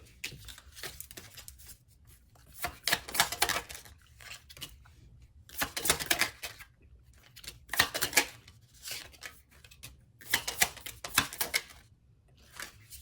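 A deck of tarot cards shuffled by hand in repeated riffling bursts of crisp flapping and snapping, separated by short pauses, close and fairly quiet with no talking.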